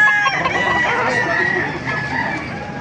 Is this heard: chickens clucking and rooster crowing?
yes